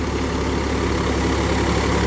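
Mahindra Yuvo 475 DI tractor engine runs steadily while puddling with a Shakti high-clearance rotavator fitted with LJF blades, a loud, continuous low diesel drone with a dense rumbling texture.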